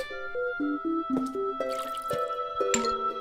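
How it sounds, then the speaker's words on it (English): A watering can tips water onto sprouts in the Plants vs. Zombies video game, giving short splashy dripping bursts over steady, cheerful game music. "Click on the watering can to pick it up, click on a sprout to water it."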